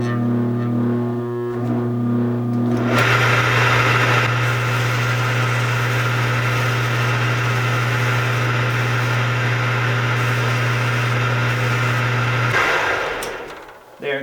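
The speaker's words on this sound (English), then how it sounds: "once I'm done with the 150, I'll bring it back down, the lathe speed back down a little lower." A wood lathe spins a walnut pen blank while it is sanded with 150 grit: a steady motor hum gives way to a loud, continuous abrasive whir that runs for about ten seconds, then stops, with the motor winding down.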